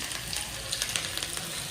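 Hot oil sizzles and crackles briefly as green chillies and Kashmiri chilli powder hit a pan for tempering spinach khichdi, a busy close-up spattering hiss.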